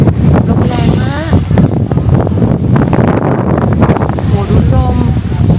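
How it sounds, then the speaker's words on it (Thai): On Hong Kong island during a storm, strong wind roars and buffets the microphone loudly and continuously, while a voice talks briefly over the gusts. "อุ้ยลมแรงมาก"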